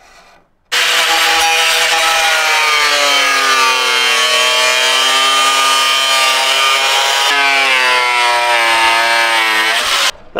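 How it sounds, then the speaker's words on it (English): Angle grinder cutting and trimming a plastic stereo opening in a truck dashboard, a loud sustained whine that dips in pitch as it bites into the plastic, briefly interrupted once, with no talk. "I got as far as I could with the grinder, kind of made a mess of things, melted a lot of plastic"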